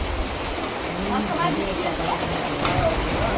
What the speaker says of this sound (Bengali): এমন টাইমে বৃষ্টি চলে আসছে